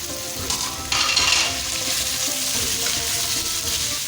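Chicken pieces hit a hot pan over high heat with lightly browned garlic and sizzle loudly, with a burst of frying as they go in, then steady crackling and stirring scrapes.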